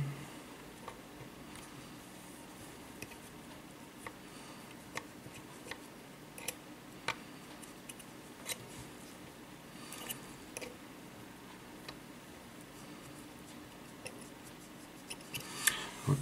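Scissors snipping cotton wick for an Aromamizer RDTA vape tank, a series of small, sharp, close-up clicks and snips spaced irregularly over a quiet background.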